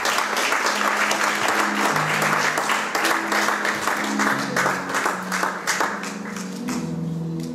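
A church congregation breaks into sustained applause praising the Lord, dense clapping from a large crowd filling the room steadily, with faint voices and music tones underneath.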